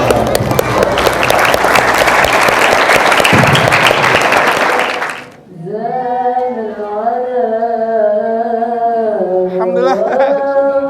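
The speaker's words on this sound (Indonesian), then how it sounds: "Tepuk tangan." Full crowd applause breaks out at a gathering for orphans, dense and loud for about five seconds before it stops, and then a voice speaks over the quiet room.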